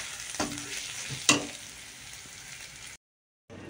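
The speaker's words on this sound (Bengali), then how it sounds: "আর এখানে এই দেখো পেঁয়াজটা ভাজছি" Onions frying in oil in a pan, a soft close sizzle with a couple of stirring scrapes, then a brief break in sound before the frying resumes.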